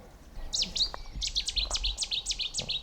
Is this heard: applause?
no